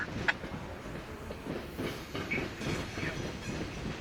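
A northbound CSX freight train crosses the Scioto River railroad bridge in Columbus with steady rumbling and clattering wheels, a rhythmic clack and occasional metallic squeal over continuous low noise.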